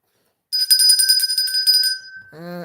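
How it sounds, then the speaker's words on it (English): A bright telephone-style bell rings rapidly and continuously for about a second and a half, loud and close, marking a milestone during a livestream, then a short voice is heard as it stops. "Andy, you got that bell ready?"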